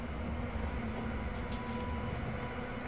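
A steady, dense rumble of an arriving train fills the scene in the Sniper Elite V2 video game, holding a constant low roar with a faint tonal hum throughout.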